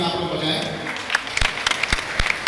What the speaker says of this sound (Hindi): एक बार मैं कहूँगा इस शानदार व्यक्तित्व के लिए बहुत जोरदार तालियां आप लोग बजाएं।